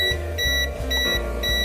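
A Zotex ZT-111 digital multimeter's non-contact voltage detector beeps rapidly in a fast, steady pulse, loud and close over a constant electronic hum from a solar power setup.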